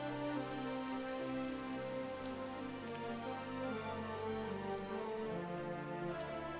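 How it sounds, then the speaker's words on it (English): Steady rain patters in the video game Dragon Quest XI, a constant even hiss with a faint sustained musical layer beneath and no voices. "And the rain stopped."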